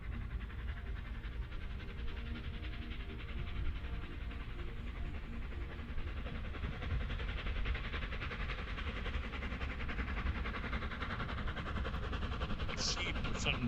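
A train passing over a bridge, a steady rumbling roar with faint rhythmic rail clatter that holds at a constant level throughout, heard from some distance outdoors.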